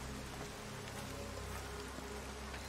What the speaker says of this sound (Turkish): İyicene yağmur falan başladı.